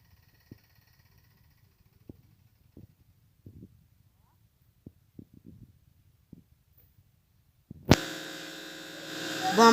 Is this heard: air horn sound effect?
no